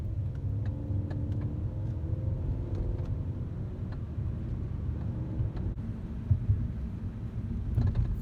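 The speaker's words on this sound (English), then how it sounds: "Hold on, we driving again." A car driving on the road, a steady low rumble of engine and tyre noise from inside the cabin, continuous and moderately loud with a few small bumps near the end.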